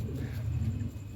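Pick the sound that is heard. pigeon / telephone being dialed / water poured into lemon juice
pigeon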